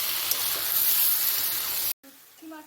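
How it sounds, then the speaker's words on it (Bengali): Dried fish frying in a potato and eggplant curry, a steady loud sizzle that cuts out abruptly near the end, followed by quieter bubbling and a brief voice. "ভেজে রাখা শুটকি মাছটা এখন তরকারির সাথে মিশিয়ে ভালো করে নেড়ে চেড়ে আরও কিছুক্ষণ ভেজে নিচ্ছে"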